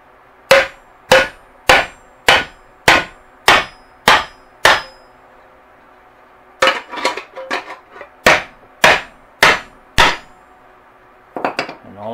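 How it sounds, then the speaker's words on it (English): A hammer strikes metal on a rail-section anvil to flatten a part: a steady run of about eight loud, ringing blows, a brief scuffling pause, then another rhythmic series of sharp strikes close by. "now it's just a matter of hammering away, and this is going to be a little noisy."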